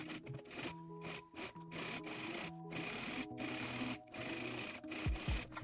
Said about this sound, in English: And then we're also going to overlock this and iron it towards one side.